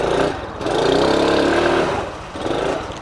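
A Honda CT110 motorcycle engine revs hard while the bike is pushed through sticky mud, a close, loud, sustained drone that dips briefly and rises again.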